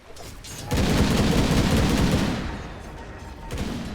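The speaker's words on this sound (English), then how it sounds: "Use Rocket Barrage to help him get a last hit." Gyrocopter's Rocket Barrage fires in Dota 2 during a professional tournament match, a dense rapid burst of rocket shots and small blasts running steadily for a couple of seconds, loud and close, then tapering off.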